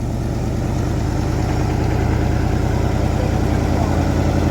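A 1968 Ford Mustang with a 289 V8 runs steadily, a loud, close, rhythmic low engine rumble that stays even throughout.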